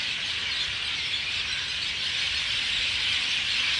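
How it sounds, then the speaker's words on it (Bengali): Sparrows chirping at dusk, a dense continuous wash of high twittering from many birds, steady and fairly loud throughout with no voices. "চড়াই পাখির আওয়াজ শুনতে পাচ্ছ? এখানে এলে আমি ভীষণ পাখির আওয়াজ শুনতে পাচ্ছি"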